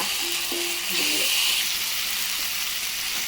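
Hot oil frying and sizzling while paneer cooks in a pan, a steady close hiss with brief spattering near the start.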